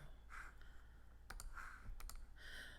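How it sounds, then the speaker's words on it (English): A computer mouse clicks while working in Cricut Design Space: a handful of crisp, faint clicks, some paired in quick succession, over a quiet background hiss. "I'm clicking on it over here in the layers panel"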